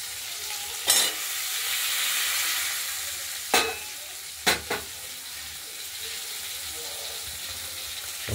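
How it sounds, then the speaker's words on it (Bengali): Fish frying in a pan gives a steady, close sizzling hiss throughout, broken by a few sharp clicks and clatters from stirring, with no talk over it. "মাছটা ভাজা হোক"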